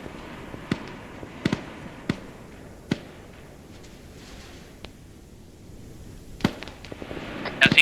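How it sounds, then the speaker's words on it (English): Sharp, distant cracks of gunfire come from the northwest near apartment buildings, scattered singly over a snowy outdoor scene with faint rustling between shots. "The shots sound northwest by the apartment buildings."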